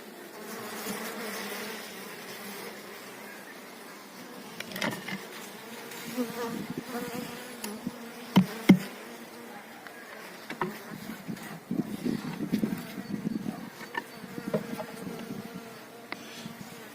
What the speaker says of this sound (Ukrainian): Бджоли вже з клубка вийшли.